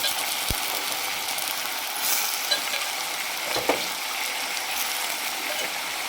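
Mushrooms a couple of days old fry in a pan, making a continuous bright hiss with a few faint clicks and one soft knock near the middle.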